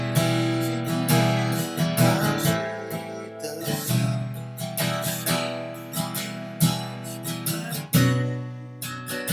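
An electric or acoustic guitar runs through a song using minor-chord substitutions, strummed chords rising and falling in volume with occasional sharper accents, clear and up close, no voices.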